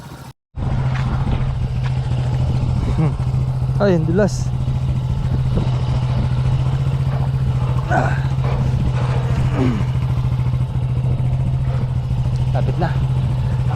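A motorcycle engine drones loud and close at a steady idle while the bike is pulled out of deep mud, with clattering and a voice talking over it.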